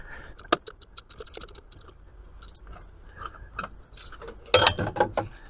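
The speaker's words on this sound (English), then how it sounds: "Our socket wrench, our ratchet." Socket wrench ratchet backing out an oil pressure sensor on a first-generation Dodge Ram W250 Cummins: quick bursts of close, sharp clicking, with a louder flurry of clicks near the end.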